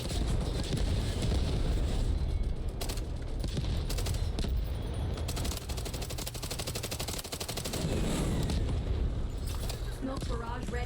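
Sustained automatic fire from an AK-12 rifle in the Delta Force video game, dense rapid bursts rattling loudly and continuously, with a voice talking over the shooting at times.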